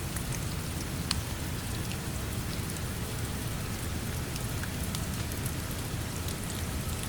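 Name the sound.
rain falling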